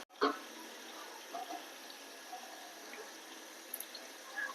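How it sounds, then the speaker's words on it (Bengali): Grapes being washed in water give faint splashes and drips, with a small clatter at the start and scattered soft sloshing after, quiet and close with no talking. "ধোয়া দেবো আঙুর, আঙুর"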